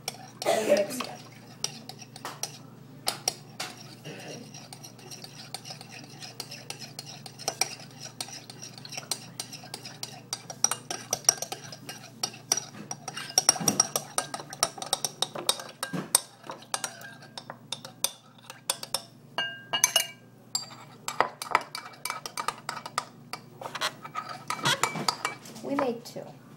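A utensil scrapes and clinks against a bowl in irregular bursts as a homemade face mask mixture with water is stirred, with occasional coughs and soft sounds nearby.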